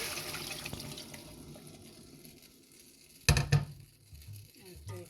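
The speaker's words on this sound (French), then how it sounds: "On va mettre encore de l'eau." Water poured into a cooking pot of smoked chicken with cucumber seeds and squash seeds, a short close splash burst after quiet simmering, with faint trickles afterward.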